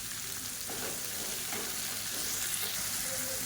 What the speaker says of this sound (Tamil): தக்காளி வதங்குறதுக்கு உப்பு சேர்த்துக்கலாம்